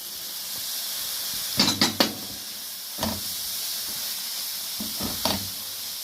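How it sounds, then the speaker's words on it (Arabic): Chopped onions fry in a pan for a vegetable and kofta filling for msemen, giving a steady close hiss and sizzle with a few sharp clatters of stirring. "دابا البصله تشحرات هي كلها"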